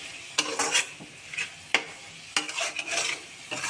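Onion sautéing with spices in oil in a pan, a quiet sizzle broken by several sharp scraping strokes of a spatula stirring against the pan, close and without talk.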